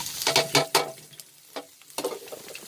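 Chopped garlic sizzles and is stirred in hot oil in a pan while stir-fried instant noodles with pork belly are being made, giving bursts of crackling and scraping strokes with quieter gaps between them.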